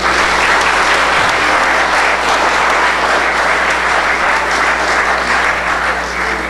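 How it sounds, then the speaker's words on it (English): A school fall musical audience gives a musical group a loud, dense round of applause that holds steady throughout, close and sustained. "let's give this group another round of applause"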